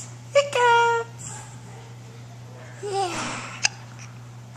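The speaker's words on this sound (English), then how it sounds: "Hiccups! Hiccups!" Baby hiccups come as short, sharp voiced catches, two clustered near the start and one more toward the end, mixed with soft babbling and squeaky infant vocal sounds in a quiet room with a low electrical hum.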